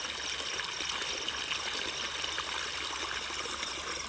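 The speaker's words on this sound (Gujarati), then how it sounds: "બીજી વાડીમાં પાણી ચાલુ છે." Irrigation water flows into a farm field at night, a steady, soft rush and trickle that continues evenly throughout with no voices.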